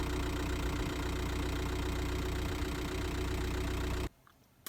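A Škoda Octavia engine idles just after its ignition lock was replaced, a steady, even running hum with a slight knocking texture that holds loud and constant, then cuts out abruptly near the end.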